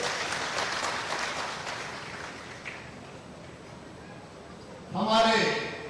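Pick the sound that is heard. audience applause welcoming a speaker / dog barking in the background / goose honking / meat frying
audience applause welcoming a speaker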